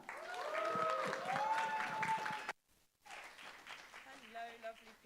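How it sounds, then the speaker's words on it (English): An audience claps and cheers to welcome a performer onto the stage at a live music venue, The Bedford. Dense, loud applause fills the first half, cuts out abruptly, then a voice speaks over fading background noise. "please put your hands together and welcome to the stage with a massive round of applause"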